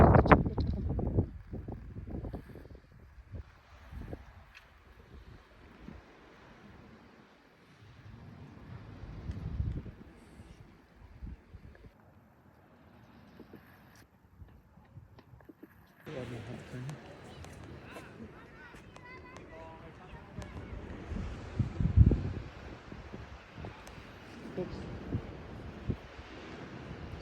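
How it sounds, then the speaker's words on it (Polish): Strong gusting wind by the ocean in Andalusia buffets the microphone in bursts, loud and rumbling, with calmer gaps and people talking at times. "tam jest po prostu wietrznie bardzo"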